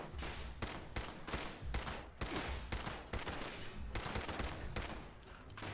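Pipe pistol gunfire in Fallout 76: dense, fairly loud shots fired in quick rhythmic bursts over about six seconds, with no pauses long enough for silence.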